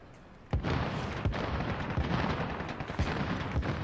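Gunfire in Call of Duty Warzone, a run of sharp close shots and bursts that fire repeatedly in irregular rhythm over a constant battle din, loud and without talk.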